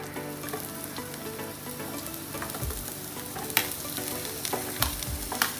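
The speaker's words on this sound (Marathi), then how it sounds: "कांदो घालप कांदो मस्त परतोवप" Onions sizzle and fry steadily in a hot pan for Goan chicken chilli, cooked with cloves and pepper, with occasional stirring clatter and scraping sounds over the continuous crackle.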